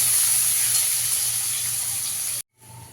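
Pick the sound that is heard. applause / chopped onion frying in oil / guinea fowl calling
chopped onion frying in oil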